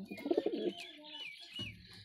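Pigeons coo softly and nearby in a short run of throaty, pulsing notes, followed by a few faint chirps and a last low coo.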